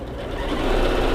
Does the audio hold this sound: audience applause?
no